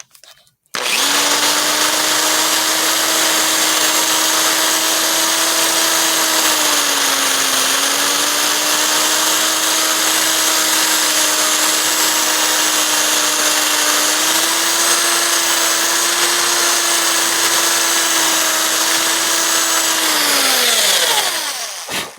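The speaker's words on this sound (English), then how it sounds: "And don't run your die grinder or whatever you're using. I'm using a drill." A handheld drill grinds and shapes the exhaust ports of a heavily ported LS cylinder head, a loud steady high whine running continuously for about twenty seconds with slight dips in pitch as the load changes.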